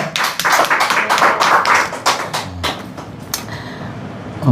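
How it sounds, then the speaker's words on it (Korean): A church congregation applauds with a dense burst of clapping that thins into scattered claps and fades out over a few seconds. "다시 한번 하나님께 영광의 박수를 올려드려야"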